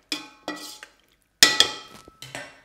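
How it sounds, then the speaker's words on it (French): Citrus salad with roughly chopped mint being stirred in a bowl, giving a few short clattering, scraping bursts of spoon against dish with brief pauses between them, close and fairly loud, with no talking. "Je remue bien"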